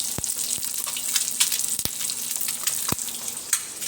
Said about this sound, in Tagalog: magpiprito po ako ng itlog